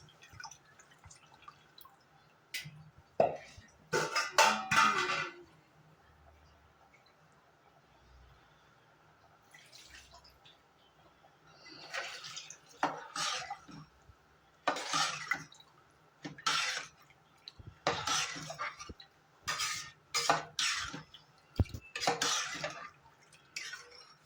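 Tamarind water splashes into a pot of fish curry in repeated short pours separated by pauses, fairly quiet with a faint metallic ring.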